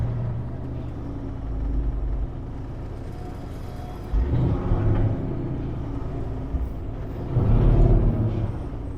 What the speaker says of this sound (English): Maybe the engine brake's a little heavy on that one there.